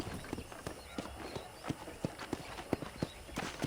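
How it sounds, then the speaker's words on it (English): Horse hooves clip-clopping at a walk in Red Dead Redemption, an even run of hollow thuds close by over faint background ambience. "I picked out a fine horse for you"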